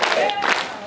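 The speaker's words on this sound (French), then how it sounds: "applaudissons" A church congregation at a Pentecost evening service applauds together, a broad wash of clapping and crowd noise sustained at steady loudness through the short moment.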